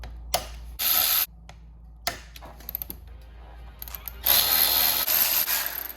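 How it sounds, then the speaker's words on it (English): Removing 12mm brake caliper bolts on a GSXR1000 motorcycle. Two loud bursts of mechanical ratcheting and whirring, one short and one longer near the end, are separated by scattered metallic clicks and taps. "these are just 12mm bolts, and I'll pop those off on both sides"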